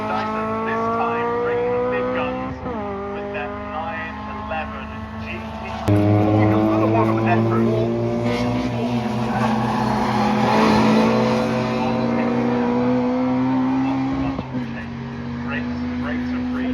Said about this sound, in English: bringing the big guns with that 911 GT